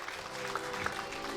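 Applause from an audience at a jubilee improvisation evening, a steady dense patter of clapping held at an even level for a moment, with no voices over it.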